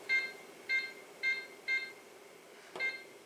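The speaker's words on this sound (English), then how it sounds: "I will set my timer over here" A kitchen timer set for boiling pasta gives a run of short, bright electronic beeps: four evenly spaced, then a brief pause and one more, close and clear in a quiet room.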